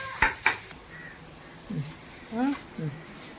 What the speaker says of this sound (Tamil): தக்காளி நல்லா மசிற வர நல்லா வதக்கி எடுத்துக்கிறோங்க